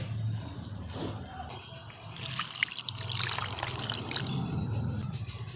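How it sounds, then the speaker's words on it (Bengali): Water is poured into boiled milk cream while making ghee, giving a close, gentle trickle and splash that swells in the middle and carries on softly. "এরপর আমি এর মধ্যে দিয়ে দিচ্ছি জল।"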